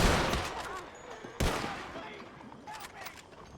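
Volley of gunfire during a Red Dead roleplay execution: a loud burst of overlapping shots opens, a second sharp volley follows after a pause, then scattered distant shots trail off.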